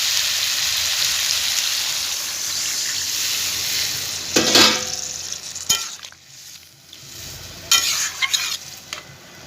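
Water poured into a pan of frying bottle gourd and lentil-dumpling curry, a hissing sizzle that flares in loud bursts then settles into a softer bubbling fry, with clinks of a spoon stirring, no talking.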